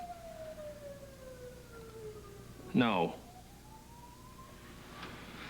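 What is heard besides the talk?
sirens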